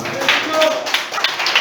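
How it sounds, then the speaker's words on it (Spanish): Church congregation clapping in a short burst of scattered handclaps, moderately close, with voices murmuring underneath. "Denle un aplauso, querido."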